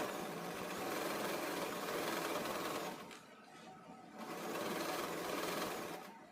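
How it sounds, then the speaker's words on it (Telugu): A Singer 2250 sewing machine stitching in zigzag mode, a fast, even mechanical whir that stops briefly for about a second before running again, close and fairly quiet. "నేను సింగర్ 2250 మిషన్ అయితే వాడుతున్నాను."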